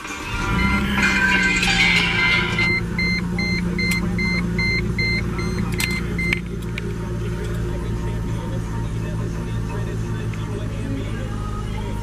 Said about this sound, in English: Hop in here, we'll start it real quick.